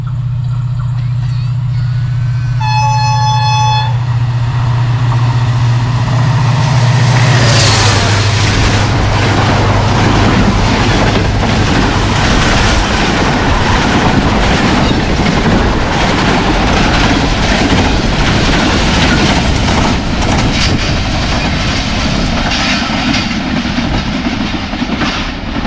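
A Pakistan Railways train roars through Jhimpir station at speed, a two-tone horn blast giving way to a loud, sustained rush of wheels and wagons that fills the whole stretch.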